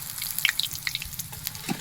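Loitta fish balls fry in oil outdoors on a riverbank, a soft crackling sizzle with scattered small pops and spits, fairly quiet and close, without voices.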